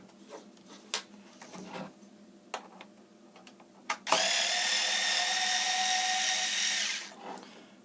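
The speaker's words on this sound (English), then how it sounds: "So first thing you can do with the Torx is remove the drive motor." A few light clicks and taps from working on an HP DesignJet 500 printer, then a loud, steady whir from a powered Torx driver for about three seconds while removing the drive motor, ending abruptly.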